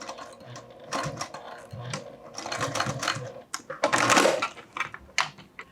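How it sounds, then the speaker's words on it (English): A sewing machine stitches across a fabric wristlet strap in rapid mechanical bursts, stopping and starting, with some rustling of handled fabric, close by. "Or we can sew across if you don't have rivets."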